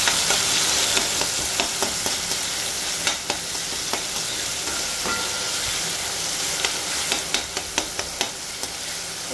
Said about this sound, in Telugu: ఒక ఉల్లిపాయ, ఒక టమాటా ముక్క, ఒక టమాటా, ఒక ఉల్లిపాయ ముక్కలు అండి. ఇందులో వేసి ఫ్రై చేసుకోవాలి.